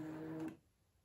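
A Brother ScanNCut machine pulls in its grid cutting mat with a short motorized whir lasting about half a second, then falls quiet.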